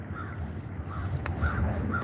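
A crow caws several times, faint and somewhat distant, in short harsh calls spaced through a low background hum, with no voices.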